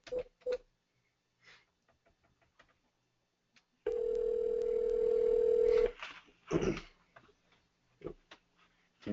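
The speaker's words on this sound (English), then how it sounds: "Can you guys hear that ringing?" A telephone ringback tone plays as one steady two-second burst over a speakerphone, surrounded by clicks and short taps before and after.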